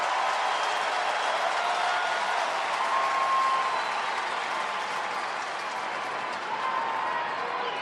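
A big-league baseball stadium crowd at a Marlins–Dodgers game roars in a dense, steady wash of cheering and clapping, loud and sustained throughout with no distinct voices standing out.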